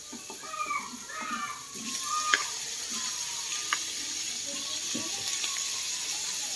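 Steady hissing sizzle of tomatoes sautéing in a pan, with scattered light clicks and faint background voices.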